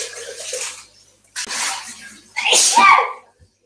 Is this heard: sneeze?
yes